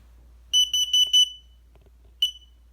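A hardwired smoke and carbon monoxide alarm sounds four shrill, piercing beeps in quick succession, then a faint pause and one more beep, loud and close in a quiet room.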